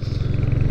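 Royal Enfield Hunter 350 on the move, its low engine hum steady and close, rising slightly in loudness toward the end, with no voices over it.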